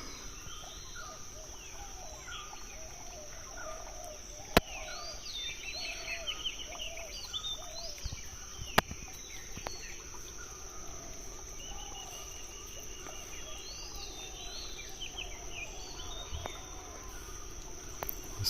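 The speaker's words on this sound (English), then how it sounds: "Birds in the background." Small birds chirp in repeated short calls across a steady high insect drone on an early morning beside the swimming pool at GlenMyu Estate Hotel, Beragala, Sri Lanka, with a couple of sharp isolated clicks and no talk.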